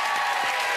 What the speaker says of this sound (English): Round of applause for Beth.